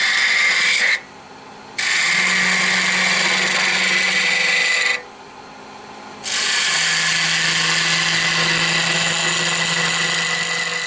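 Wood spinning on a lathe while a Dalek section is turned down to two inches and rounded off, a steady broadband scraping hiss with a faint low hum, cutting off briefly twice as the tool lifts away.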